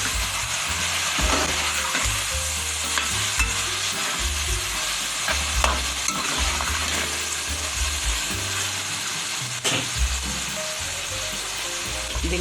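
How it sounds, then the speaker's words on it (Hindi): Red chili, coriander and turmeric powders are stirred in a frying pan over a low sizzle, with repeated scraping and knocking strokes of a spoon in an uneven rhythm, close and without talking. "अब इसको अच्छे से मिक्स कर लेंगे।"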